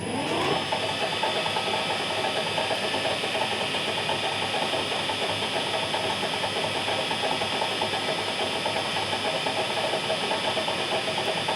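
A milling machine's gearbox runs on fresh oil after an oil change, a steady, close mechanical whir and hiss with a faint gear rumble underneath that holds unchanged throughout.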